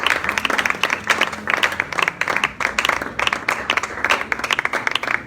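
A church congregation at a celebration service breaks into loud, sustained applause, with dense clapping rising and falling in waves and a few voices faintly mixed in.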